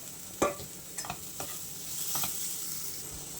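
Boiled kantoli, a wild monsoon vegetable, drops into a pan of spices and sizzles, with a sharp clatter as it lands, a few stirring scrapes, then a steady soft frying hiss.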